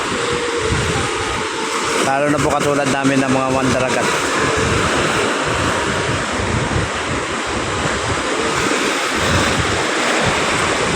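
Sea waves wash steadily onto the Manila Bay shoreline at Navotas, a broad continuous surf roar with wind buffeting the microphone, while someone speaks over it throughout.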